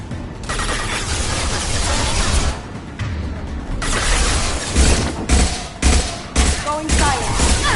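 Sustained gunfire and bursts of automatic weapons fire in the video game Mass Effect 2, loud and continuous with sharp cracks and brief pauses, mixed with combat effects and occasional voices.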